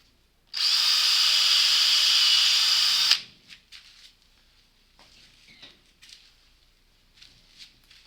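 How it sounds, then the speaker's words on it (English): A power drill fitted with a 9/64 bit bores an angled hole, a loud steady whine lasting about two and a half seconds before stopping, followed by quieter handling noises. "I'll actually take a drill with the same size drill bit"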